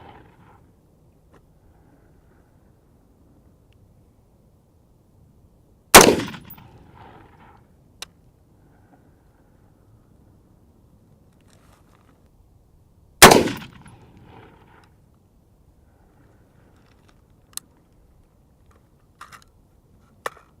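Two loud, sharp rifle shots fired at a shooting range, spaced several seconds apart, each with a short decaying tail, followed by a few faint clicks in otherwise quiet surroundings.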